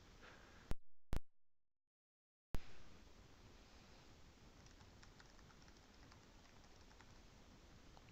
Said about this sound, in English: Oh, I thought I was typing.